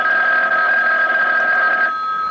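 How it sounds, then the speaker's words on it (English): A telephone rings in a radio drama: one loud, close electronic trill holds for about two seconds and then cuts off abruptly, with no speech over it. "And then the phone rang."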